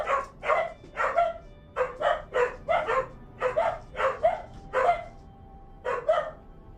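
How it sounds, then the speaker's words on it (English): A dog barks repeatedly indoors, about a dozen sharp, evenly spaced barks at moderate distance, with no talking in between. "I think something may have gotten the dog's attention."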